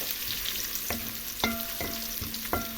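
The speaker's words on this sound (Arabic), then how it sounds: "وهشوحها لحد ايه ما تصفر كده او تكبر شويه. وهنزل عليها بالثوم" Onions and garlic sauté in a pan with a close, steady sizzle, broken by several sharp scrapes and clinks of stirring at irregular intervals, with no voices.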